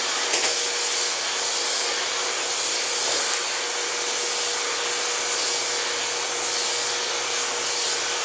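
Electric clippers fitted with a long snap-on blade run steadily while trimming a dog's coat, a constant close motorized hum with a faint high whine and no talking.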